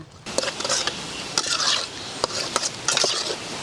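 Goat intestines and blood fry in a pan and are stirred briskly, with repeated spoon scrapes and metallic clinks over a soft sizzle, close and fairly loud.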